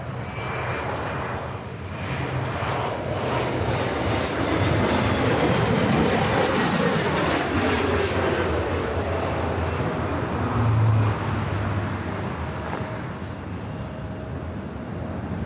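An Embraer E-jet airliner roars at LAX, its engines a loud, broad, sustained rush that swells around the middle and holds, with no talk over it.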